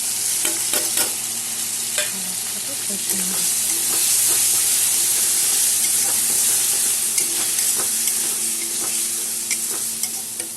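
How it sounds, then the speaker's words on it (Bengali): Bengali-style spice paste of garlic, chilli powder, salt and turmeric sautéing in a pan for an egg omelette curry, a steady close sizzle with scraping stirs and occasional clinks, no talking. "মশলা আমার কষানো হয়ে গেছে।"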